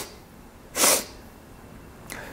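A voice imitates sniffling with a head cold: one loud, sharp nasal sniff up close, then a second much fainter, briefer sniff a moment later.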